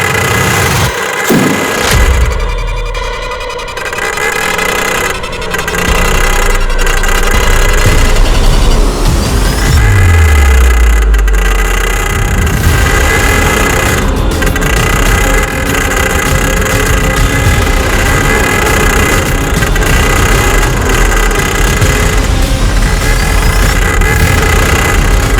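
Auto-rickshaw engines running during an auto race, a loud, continuous mid-pitched engine drone with revving swells and occasional sharp knocks, sustained for the whole stretch without speech.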